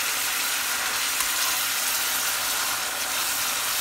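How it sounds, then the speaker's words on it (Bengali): Achari eggplant sizzles steadily in a hot frying pan as it is gently stirred, a close, continuous hiss of oil with no pauses. "হালকা হাতে একটু একটু এরকম মেরে দিতে হবে, যাতে নিচে লেগে না যায়"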